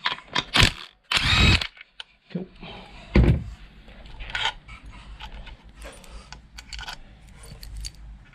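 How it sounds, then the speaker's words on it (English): Bursts of a power tool loosening bolts on a 13B J-port rotary engine, with short whirring runs, metallic clinks and handling clatter between them, close by. "Let's undo these bolts."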